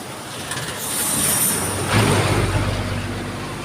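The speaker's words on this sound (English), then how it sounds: "that lorry's just gone and this bridge is absolutely shaking like mad." A lorry passing over a bridge at Twin Rivers in Murcia, Negros Occidental, leaves a low rumble and rattling, shaking structural noise that swells after the halfway point and holds steady, with hiss in the background.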